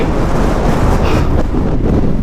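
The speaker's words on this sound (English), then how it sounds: "Oh, it's so windy." Strong wind in the Scottish outdoors roars and buffets the microphone in a loud, continuous rumble that surges slightly, with no other sounds coming through.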